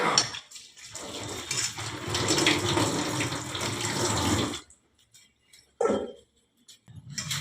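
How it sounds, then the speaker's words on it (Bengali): Cauliflower florets rinsed under running tap water in a kitchen, a steady close gushing stream for about four and a half seconds, then brief splashes and handling after it stops. "আমি তাও আরেকবার ভালো করে আমি ধুয়ে নিচ্ছি"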